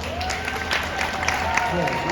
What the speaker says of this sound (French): Hey, on applaudit Laurent!